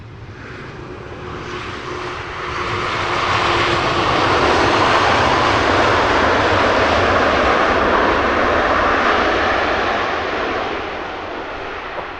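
A United Airlines airliner's jet engines roar at Heathrow Airport, swelling to a loud sustained rumble as the plane passes, then easing slightly toward the end, heard from a nearby spotting position without talk.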